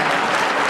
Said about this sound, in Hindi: तालियां बजाइए एक बार।